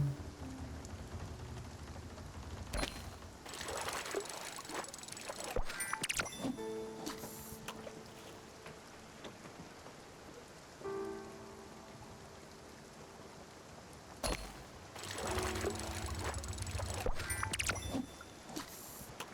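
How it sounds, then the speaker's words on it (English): Rain in the video game Spiritfarer, a soft continuous patter of falling drops with bursts of brighter splashing and short musical chime tones, faint and alone without talk. "Seems like in rain we find a lot of glim bottles."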